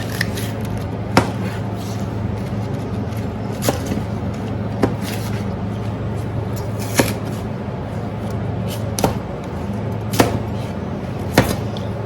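A kitchen knife cuts vegetables into pieces for a black pepper tofu noodle stir-fry, with sharp, evenly spaced chops against a board every second or so over a steady low background hum.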